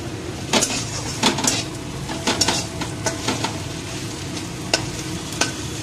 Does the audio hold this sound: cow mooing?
no